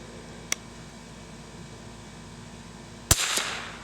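A Remington 510 Targetmaster rifle fires at a swinging target outdoors: a faint crack early on, then one sharp, loud shot followed by a short ringing decay.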